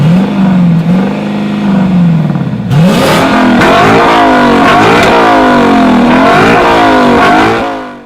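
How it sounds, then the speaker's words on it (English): A Lexus LC500's 5-litre, 471-horsepower V8 in Forza Horizon 5 idles, then revs hard in loud, sweeping climbs and drops through several gear changes before cutting off. "the LC500 comes with a 5 litre V8 that pushes 471 horsepower, which makes this noise"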